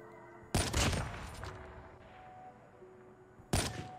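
Two heavy bursts of gunfire from Call of Duty Mobile, each a sharp loud onset trailing into rattling decay, separated by about three seconds of quieter ambient game noise.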